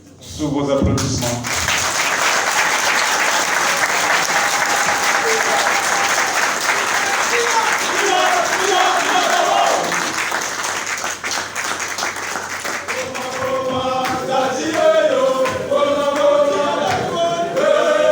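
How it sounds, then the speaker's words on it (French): Loud, sustained applause from a crowd at an extraordinary national council session of a political party, dense clapping filling the hall for many seconds before giving way to a voice speaking at the end. "Sous vos applaudissements."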